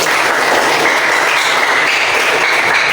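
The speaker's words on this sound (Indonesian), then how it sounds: "tepuk tangan buat kita semangat" A group of teachers at a training session claps hands together, a dense, loud, continuous patter of many hands filling the room at an even pace with almost no talk.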